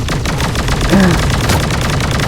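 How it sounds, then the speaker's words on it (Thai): An MK12 rifle in Sausage Man fires a steady, rapid string of loud, close shots without any break through the whole moment. "ปืนนี้มันเริ่มจาก ยิงจากช้าไปเร็วนะ"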